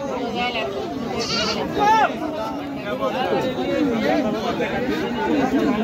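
Goats bleat amid a crowded Taherpur goat market, several wavering bleats rising over constant close chatter of buyers and sellers, one louder cry standing out briefly while the busy crowd murmur continues throughout.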